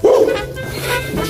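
A dog barks once, loud and close, in an outdoor street setting, then gives a whining yelp.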